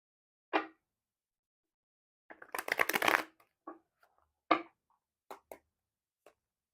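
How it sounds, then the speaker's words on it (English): Tarot cards shuffled by hand: a single snap, then a dense riffling burst about a second long, followed by a few soft scattered taps and card slaps in a quiet room, with no talking. "Let me shuffle one more time."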